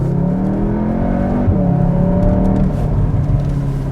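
A Cupra Formentor VZ SUV's engine revs up hard through the gears, its rising whine stepping up in pitch, loud and close from inside the vehicle.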